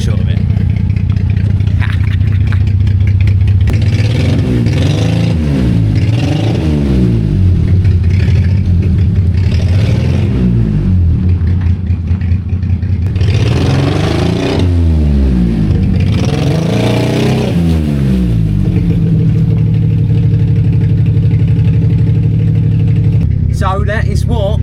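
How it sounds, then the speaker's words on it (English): A Daihatsu Hijet with its 660cc engine and the exhaust back box cut off revs repeatedly, rising and falling in gritty bursts above a rough idle, loud and close, with a voice talking over parts of it. "that is what a Hijet 660cc sounds like with no back box on it"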